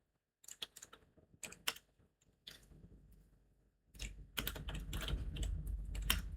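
Code being typed on a computer keyboard: bursts of quick, close key clicks with short pauses, building into denser continuous typing toward the end.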